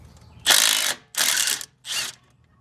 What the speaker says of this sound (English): next move is removing caliper